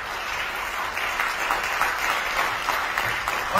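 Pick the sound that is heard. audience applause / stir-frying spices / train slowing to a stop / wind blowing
audience applause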